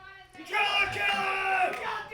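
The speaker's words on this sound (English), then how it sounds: "Shouts for Driller Killer" A wrestling crowd shouts and cheers for a wrestler at a live event, a swelling burst of voices rising into a sustained roar over about two seconds, mid-distance and moderately loud.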